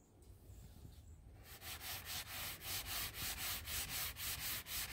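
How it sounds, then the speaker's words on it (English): Sandpaper on a sanding block scuffs a vinyl plank floor inside a truck camper, a steady series of close, rhythmic rubbing strokes after a brief quiet start. "I'm decided to scuff the floor with some sandpaper, sanding block"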